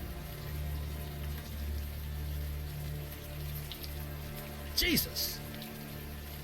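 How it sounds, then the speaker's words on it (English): Warm rain falls steadily in the video game Unavowed, a continuous soft patter heard throughout, with a short exclaimed voice near the end. "the warm rain is coming down"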